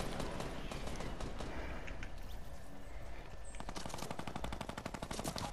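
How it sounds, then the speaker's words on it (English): Minigun fire in a Fortnite match, a dense continuous stream of rapid shots with sustained rattling, loud and close, later turning into distinct rhythmic pops. "I hear another minigun somewhere."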